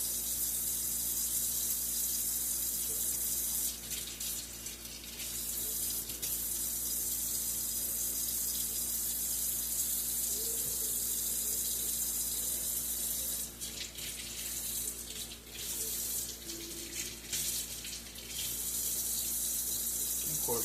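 Cold tap water runs steadily into a sink while shellfish are rinsed, a continuous close hiss and splash throughout, with brief clattering shifts as the items are handled under the stream.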